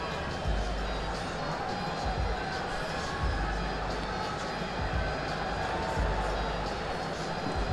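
A WWE wrestling arena crowd fills the space with a constant roar of cheering and murmuring, with low thumps and swells rising through the noise and no clear single voice standing out.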